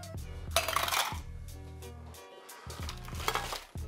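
An ice cube drops into a cocktail glass, making clinking knocks close by, with a few separate taps spread across a quiet moment and no talking.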